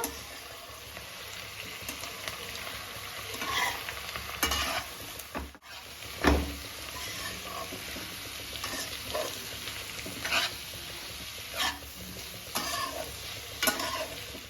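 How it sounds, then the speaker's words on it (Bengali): Khesari greens with salt and green chilli being stirred in a pan, with soft scraping and rustling strokes at irregular intervals over a low sizzle, close and moderately quiet. "এবারে দেখো এই যে শাকটা নেড়ে নেবো"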